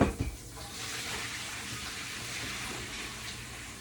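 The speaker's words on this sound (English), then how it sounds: "I'm letting hot water run on that." Hot water running from a kitchen tap over yams, a steady close rushing splash that holds evenly throughout after a few brief clatters at the start.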